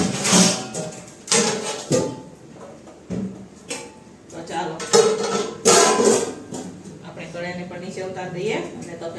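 Metal clanks and knocks as a pot is taken off a kitchen stove and covered with its lid, several bursts of clatter mixed with someone talking throughout.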